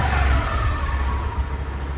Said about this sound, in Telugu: మీకు ఇంజిన్ కూడా స్టార్ట్ చేసి చూపిస్తాను